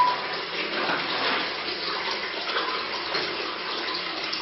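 Hot water runs steadily from a hotel sink faucet, a continuous broadband splashing rush at close range that holds an even level throughout with no voices.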